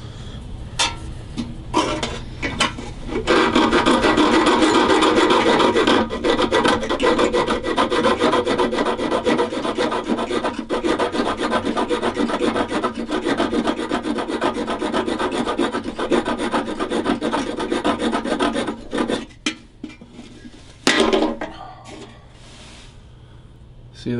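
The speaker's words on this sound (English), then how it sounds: "Let's try and hacksaw the screw off." A hacksaw cuts off a screw on a vintage Dobro resonator guitar, with close, loud rasping back-and-forth strokes that run steadily for about fifteen seconds, then break into a few scattered scrapes and handling noises.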